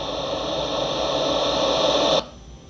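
A spirit box radio hisses with loud, continuous sweeping static for about two seconds, then cuts off abruptly into near silence.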